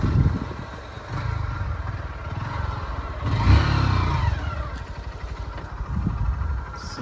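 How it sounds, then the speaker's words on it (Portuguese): A motorcycle engine revs loudly and close, surging to a peak in the middle before easing back to a rough, uneven drone, with people shouting over it. "Tu não sabe andar de moto, não"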